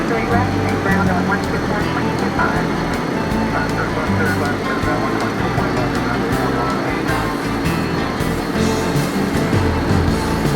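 An airliner roars steadily in a broad engine rumble for the whole stretch, loud and constant, with radio chatter from the cockpit layered over it.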